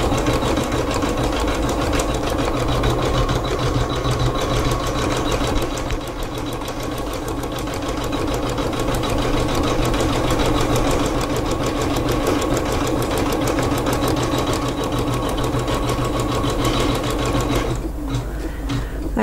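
An embroidery sewing machine runs an applique blanket stitch in a hoop, a steady, loud rapid chatter of needle strokes that continues alone and cuts out just before the end.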